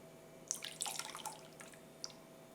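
Water splashing and dripping as a rock is lowered into a full container for an overflow measurement, a quiet cluster of small splashes and drips followed by one late drop.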